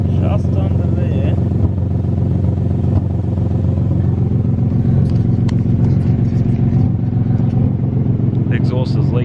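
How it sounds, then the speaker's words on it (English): Idling engine of a Ford Falcon AU car with a badly leaking exhaust, a loud, steady, rough low rumble with puffing clatter, recorded close underneath the car for the whole stretch. "The exhaust is leaking pretty bad"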